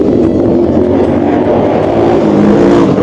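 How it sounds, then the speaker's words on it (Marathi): A vehicle with a modified silencer roars past with a loud, continuous throaty exhaust drone on a road between Shrigonda and Mumbai, filling the whole stretch. "सायलेन्सर मॉडिफाय करून आवाज काढत चालतात नुसते."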